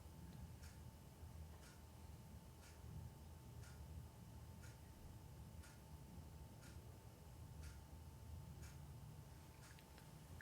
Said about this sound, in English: I'll go give you a bit of room noise with the clock.